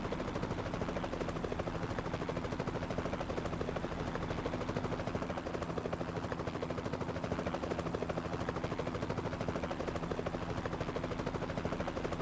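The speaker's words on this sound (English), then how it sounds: "I hear a helicopter." Helicopter in the American Truck Simulator game, a steady rapid rotor chop droning continuously at moderate level with no speech over it.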